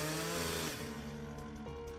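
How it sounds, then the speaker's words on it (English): A chainsaw sound effect in a horror animatic, a quiet buzzing engine drone that drops in pitch partway through and settles into a lower, steady whine. "in one powerful downward swing, the chainsaw bit into Chris's spine"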